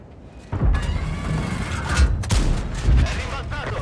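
Tank gun shots in World of Tanks, from the Vipera firing premium ammunition: heavy booming blasts over a steady rumbling engine and track drone, with a few distinct shots spaced about a second apart.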